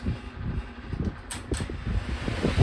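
A Vornado pedestal fan running on high speed gives a steady, loud rushing whoosh with rumbling wind buffeting close up, continuous throughout, with no talking.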